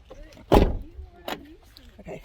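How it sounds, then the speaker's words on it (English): A van door thumps shut once, a loud close followed by a fainter click or second knock, with quiet outdoor background and no talking. "Okay, door's locked."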